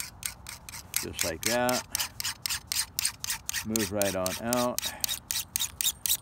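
Scissors blade pressed against a grinding wheel, rasping and rubbing in repeated close strokes, with someone talking over it.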